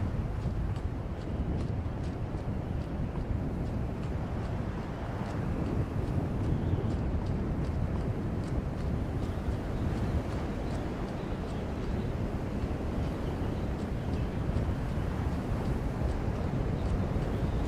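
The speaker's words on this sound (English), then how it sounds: "sounds like it's getting a bit windy and colder" In the video game Skyrim VR, wind rushes in a steady, loud, low rumbling wash that persists throughout, with no voices over it.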